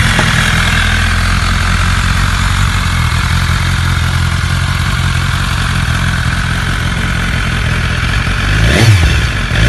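A pre-warmed BMW S 1000 RR superbike engine runs at a loud, steady idle nearby, then gives a sharp rev near the end.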